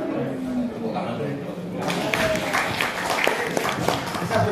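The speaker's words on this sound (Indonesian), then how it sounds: "Tepuk tangan dulu." An audience at a talk on manuscript editing breaks into brief applause that swells after a moment and continues with scattered claps, with voices heard over it.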